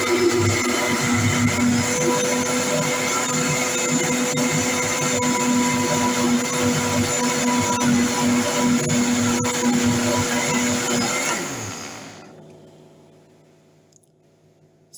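A kitchen blender grinds a moin moin mixture in a steady, loud whirring run that cuts off abruptly near the end, leaving near silence.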